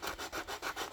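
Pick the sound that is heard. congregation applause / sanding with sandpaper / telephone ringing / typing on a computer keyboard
sanding with sandpaper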